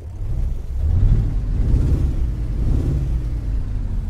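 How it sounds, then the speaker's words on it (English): The low, rumbling engine of a Magirus Deutz 290 truck in the video game American Truck Simulator idles and revs steadily, its deep drone rising and falling slightly, with no voices. "Well, that's a nice engine sound"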